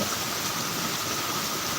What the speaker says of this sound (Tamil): சிதம்பரம் பகுதியில் தீவிர கனமழை பெய்து வருகிறது